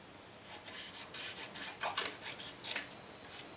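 Scissors trim paper in a rapid series of short, crisp snipping and rasping cuts. The cuts sound close and fairly quiet, with no voices over them.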